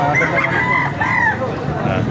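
Several roosters crow one after another nearby at a chicken market in Baliuag, Bulacan, with clucking and a general farmyard murmur underneath.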